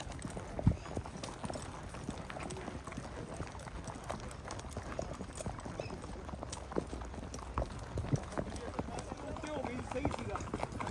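Marwari horses' hooves clip-clop in a steady, continuous rhythm during an 80 km long-distance ride, close and moderately loud on a shaded path, with occasional louder footfalls and people talking in the background.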